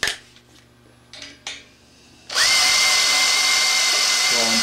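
A power drill whirs loudly and steadily after a few brief low hums and clatters, running continuously to the end, as it rolls a copper boiler tube into place.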